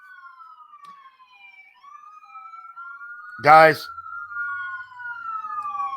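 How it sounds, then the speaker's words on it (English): An ambulance siren wails steadily in the distance as it passes and carries on throughout, with a person talking briefly up close partway through. "that right there, that's an ambulance that just went by"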